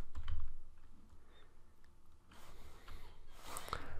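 Quiet computer keyboard typing comes in short irregular bursts of soft key clicks, near and faint, with a little room noise between keystrokes.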